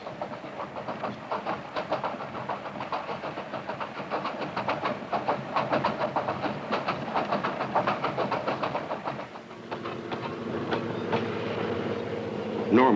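Fast freight train 406 rolls past on the rails with rapid, rhythmic clickety-clack of wheels over joints and a loud, sustained rumble that eases near the end, leaving a steadier hum.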